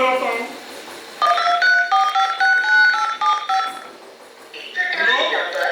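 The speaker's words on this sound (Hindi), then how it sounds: "फिर से फोन लगाता हूँ।" Phone number being dialed on a keypad in a cyber-fraud street-play scene: a quick sequence of about nine distinct clear beeping tones, loud and close, with a voice speaking before and after.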